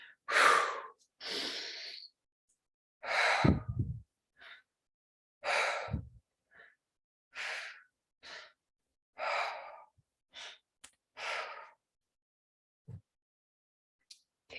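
Deep breathing during a guided tapping session, a series of slow, close breaths and sighs separated by quiet pauses, heard alone without speech.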